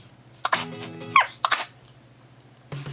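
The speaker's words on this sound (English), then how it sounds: "I really gotta sneeze." A couple of sharp, explosive bursts like a sneeze or cough, separated by quiet gaps, close and fairly loud, with a faint low hum underneath.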